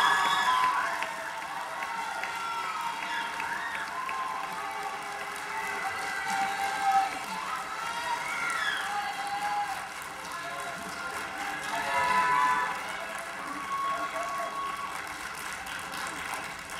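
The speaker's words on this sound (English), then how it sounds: "Can I have one more round of applause for our awesome soloists?" High-school audience applauds choir soloists at an autumn concert: a steady, sustained wash of clapping and cheering from a large crowd, swelling in places and carrying on for many seconds.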